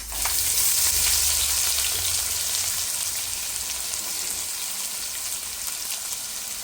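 Onions frying in a pan for a children's lunch box meal, a loud, continuous crackling sizzle that holds steady and eases slightly over the length, with no talking.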